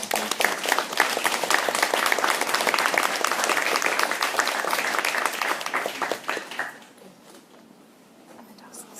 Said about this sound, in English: let's give our special guest a very big round of applause